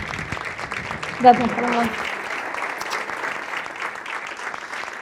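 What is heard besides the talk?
audience applause for award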